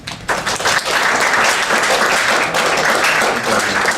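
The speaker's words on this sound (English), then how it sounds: "All right, give these guys a round of applause" A crowd at a youth speaker's talk on diversity breaks into loud, sustained applause, dense clapping that fills the space steadily from start to finish.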